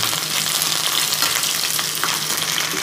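Curry leaves hiss and crackle in hot oil for an anchovy curry, a loud, close, continuous sizzle with faint stirring and no voices.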